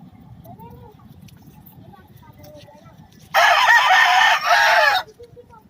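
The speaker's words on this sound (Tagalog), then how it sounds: "nakisabay ang native chicken" A native chicken rooster lets out one loud, drawn-out crow close by, while hens cluck softly in the background before and after.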